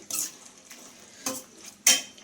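A pot of traditional pumpkin stew with fresh coriander is stirred, with three separate scraping swishes of a spoon against the pot, the last one loudest, over a quiet background.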